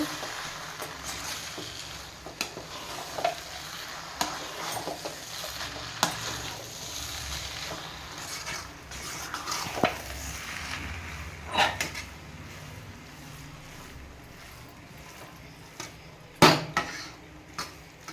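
Kothu parotta is tossed and stirred with pepper in a frying pan, with soft sizzling under intermittent sharp clanks of a utensil against the pan.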